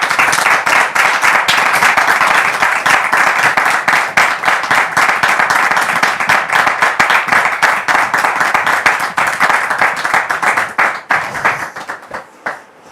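A studio audience welcoming a guest with sustained, dense applause, many hands clapping loudly and steadily for several seconds before thinning out and fading at the end.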